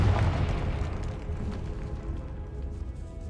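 Confringo explosion spell in Hogwarts Legacy, a fiery burst that opens loud and close with a deep rumbling boom, then trails off in a rolling, crackling decay.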